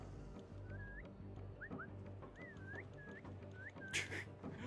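A whistle in the video game Assassin's Creed Valhalla, with several short rising and falling whistled tones spread over a steady game ambience and a brief bright burst near the end.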